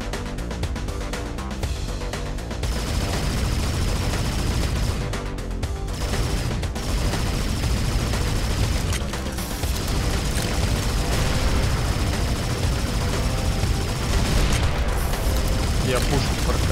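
Spaceship cannon gunfire in the space shooter video game Subdivision Infinity DX, rapid repeated blasts and booms over continuous game sound across the whole stretch, with a person talking over it.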